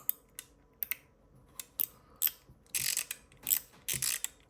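A stainless steel fidget toy slides up and down in quick, crisp metallic clicks and ratcheting scrapes, close and fairly sharp, in an uneven rhythm that builds into longer grinding runs toward the end.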